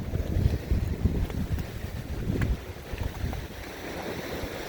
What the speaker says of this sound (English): So we got a northwest wind today, and it's only blowing maybe, I don't know, 15 mile an hour, if that.